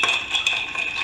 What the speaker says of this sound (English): Stirring is there.